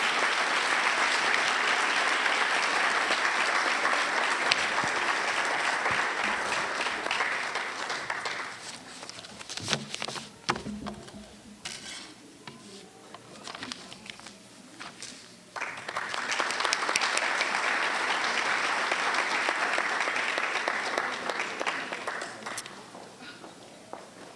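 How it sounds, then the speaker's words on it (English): Audience applause for award recipients at a school district star award reception: two long, steady bursts of clapping separated by a quieter stretch with scattered claps, footsteps and movement. "Let's give them all a round of applause"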